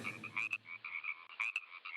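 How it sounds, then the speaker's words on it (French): A green frog croaks close up in a quick run of nasal, buzzy calls, about a dozen short pulses with a few louder accented notes, alone over quiet background. "Il s'agit de la grenouille verte."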